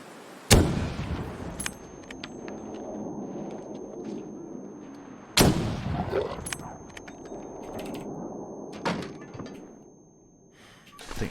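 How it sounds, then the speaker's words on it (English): Two loud rifle shots ring out about five seconds apart in the survival video game The Long Dark, each a sharp crack followed by a decaying tail over a steady ambient background. "2 rifle shots."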